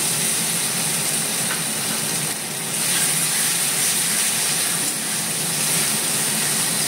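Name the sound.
tomato, ginger, garlic puree sizzling in hot oil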